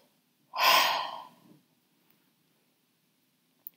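One deep audible exhale, a loud breathy sigh near the microphone during a mindfulness breathing exercise for a school class, trailing off into silence.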